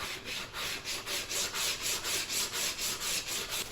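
Steady rhythmic rasping of sandpaper rubbing back and forth on wood edges, about three strokes per second, close and continuous.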